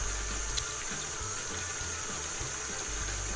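Cream churns in a stand mixer as it separates into butter and buttermilk, a steady whirring, sloshing wash with a low rhythmic thump, continuous and close.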